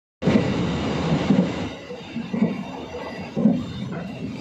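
A Penataran Dhoho passenger train rumbles steadily along the rails between Blitar and Papar, with a rhythmic clatter of wheels roughly once a second, close and fairly loud, with no voices.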